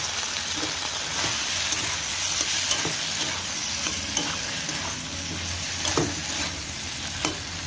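Prawn head paste sizzles in a frying curry while a spoon stirs through it, giving a steady close hiss with soft scraping strokes.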